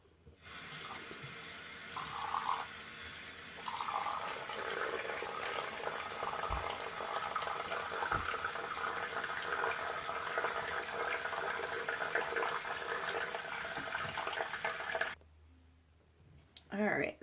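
A bathroom tap runs steadily while someone rinses their face, a close, continuous splashing hiss that cuts off abruptly near the end.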